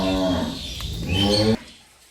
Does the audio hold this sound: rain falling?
no